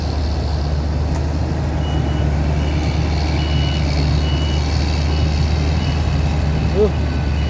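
Steady electronic reversing beeps from a truck near a John Deere CH570 cane harvester pulse evenly over a constant low diesel drone, with a faint squeal near the end.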